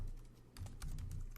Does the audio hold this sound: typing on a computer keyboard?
yes